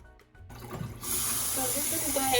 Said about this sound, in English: drain it with some cold water to start the preparation.